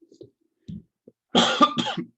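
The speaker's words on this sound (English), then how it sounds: "Excuse me, coughing." A person nearby coughs in two quick, harsh bursts after a few faint throat noises, with no speech.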